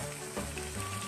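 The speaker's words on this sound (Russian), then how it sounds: "они у нас жарятся на большом огне, в кипящем масле." Sugar-coated chicken pieces fry over high heat in boiling oil in a pan, a continuous close sizzle and crackle with no talking.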